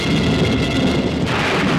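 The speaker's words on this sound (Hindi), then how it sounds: "ऐसी तूफानी बरसात मैंने अपनी जिंदगी में कभी नहीं देखी" Stormy downpour in a Hindi horror film scene, a steady dense roar of heavy rain with low thunder rumble throughout, loud and continuous with no voices.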